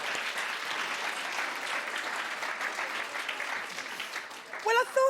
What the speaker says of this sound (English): So give yourselves a clap.